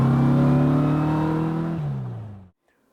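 A Porsche 356 Speedster's engine pulls on a test drive. The drone climbs steadily in pitch as it accelerates, then drops after a gear change and cuts off abruptly into silence.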